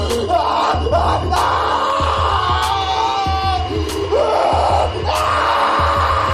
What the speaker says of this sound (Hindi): शॉन लेजर बीम के चलते तड़पने लग जाता है और वो जोर जोर से चिल्लाने लगता ह